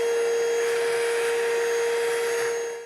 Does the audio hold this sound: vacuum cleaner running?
yes